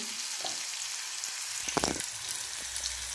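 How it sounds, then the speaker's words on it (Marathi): Chili powder, salt, turmeric and a little garam masala sautéing in a pan for dal palak, giving a steady close sizzle and frying hiss with a brief burst of stirring, no voices. "छान परतून घेऊ"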